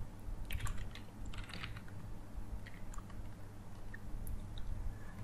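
Quiet, quick clatter of keys on a computer keyboard as HTML code is typed, with irregular bursts of light taps and short pauses over a soft background hiss.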